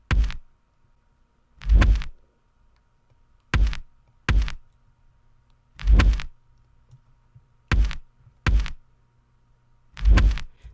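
A kick drum boosted in attack, release and drive thumps in separate heavy hits, spaced unevenly and alone, each with a sharp punchy onset and a short booming tail.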